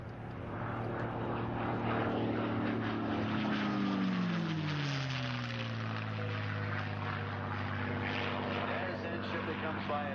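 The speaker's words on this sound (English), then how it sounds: "Listen to the sound of this P-51." P-51 Mustang fighter plane, named Big Beautiful Doll, roaring past at a 1997 Sussex airshow, a loud propeller engine drone that swells and drops in pitch as it passes, with a voice talking over it.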